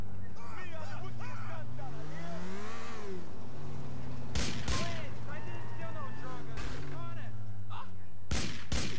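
Gunfire strikes a car in GTA 4, sharp loud shots cracking out in short bursts over a droning, revving car engine, while someone talks throughout.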